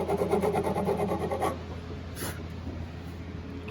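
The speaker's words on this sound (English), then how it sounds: "So again, we're just notching each one." A file rasps across the nut of an acoustic guitar, cutting string notches in quick back-and-forth strokes for about a second and a half, then quieter scraping and light taps follow.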